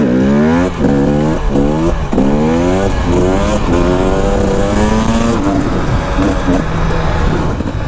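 A modern two-stroke dirt bike ridden on a street revs up through several gears, each rising whine cutting off at the shift before climbing again, loud and close, then settling into a steadier drone.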